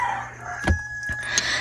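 A rooster crows somewhere in the background, fairly faint, with a couple of short bursts over a quiet outdoor hum. No one is talking.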